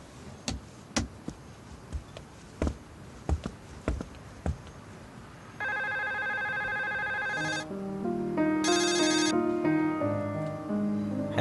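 A telephone rings in a Turkish drama scene: a few sharp ticks and knocks come first, then a steady electronic ringtone sounds in repeated bursts with a tonal melody underneath, fairly loud and close, with no talking.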